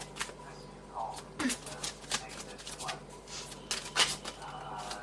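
Tarot cards being shuffled by hand in a quiet room, a run of soft riffling slaps and brisk papery flicks with a few sharper snaps, close up, under a person speaking.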